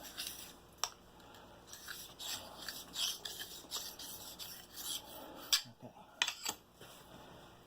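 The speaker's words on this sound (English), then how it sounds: "I am very slightly, I mean just very slightly, putting the pressure on that one edge." Metal file rasping along the edge of a lopper blade in steady, close strokes with a few sharper scrapes, light and even throughout, with a brief spoken word partway through.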